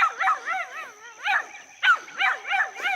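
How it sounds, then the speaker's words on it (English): The neighbor's dogs make repeated yips and whimpering barks in short bursts beside a Tennessee garden with sweet sorghum rows. The dogs sound moderately close, with no talk. "And the neighbor's dogs has decided to come and see me."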